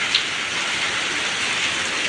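Heavy tropical rain pours steadily in a flood-prone rural area, a dense, even hiss of drops that stays loud and unbroken with no voices.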